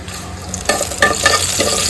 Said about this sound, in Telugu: దాల్చిన చెక్క తగినంత, 4 లవంగాలు, ఇంకా 2 బిర్యానీ ఆకు వేసి నీట్గా ఫ్రై చేసుకోవాలి